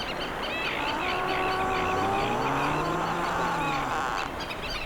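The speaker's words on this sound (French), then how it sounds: "Les plaques de glace qui se frottent les unes aux autres, en contrebas, font un son presque synthétique." Plates of sea ice rub and grind against each other below, giving a continuous eerie, almost synthetic whining with gliding tones, while birds chirp faintly around.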